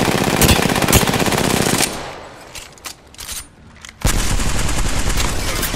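Automatic gunfire in the Apex Legends video game: a loud, rapid burst of close shots that breaks off into a quieter pause with a few scattered sounds, then a second sustained burst resumes.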